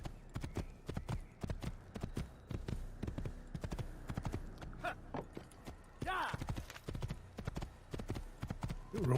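Horse hooves in Assassin's Creed pound in a fast, steady galloping rhythm, close and continuous, with a brief whinny-like squeal partway through.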